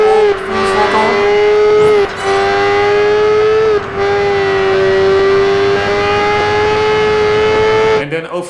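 Car engine held at full throttle in the Project Gotham Racing 4 video game, a loud steady high-pitched drone with brief dips around gear changes, running continuously throughout.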